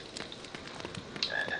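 A frog croaks beside a staircase in a Harry Potter video game. Its rapid, raspy croaking pulses stay fairly quiet and close, layered over a soft, wet ambient background.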